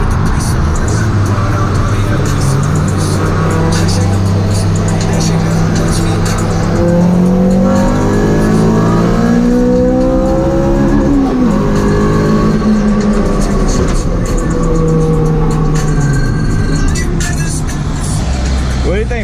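A Honda car accelerates hard, its engine note climbing and falling through the gears. The engine is loud and close, as if heard from inside the car.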